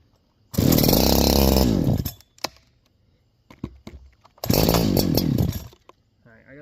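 A Farmertec Holzfforma G372 XP chainsaw fitted with an OEM Walbro HD12 carburetor fires and runs in two loud, close bursts of engine roar, with a pause of small clicks and rattles between them.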